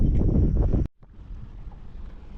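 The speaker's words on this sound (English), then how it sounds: "The wind is probably around 15 miles an hour." Wind over open water on a grass-line fishing flat at about 15 mph, a heavy roaring buffet that cuts off abruptly, then a lighter, steady breezy hiss continues.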